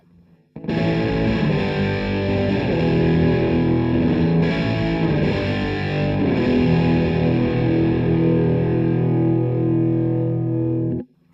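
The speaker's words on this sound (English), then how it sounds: "this is the basic distortion that you can get from the DS-1." An electric guitar plays through a Boss DS-1 distortion pedal, with thick, buzzing sustained chords ringing out continuously for about ten seconds before cutting off.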